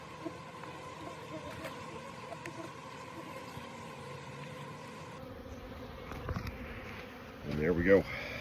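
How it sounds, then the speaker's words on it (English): Honeybees hum steadily around a hive entrance during winter preparation in West Texas, a continuous close buzz that swells louder near the end, with faint handling noises. "The bees can still come in and out"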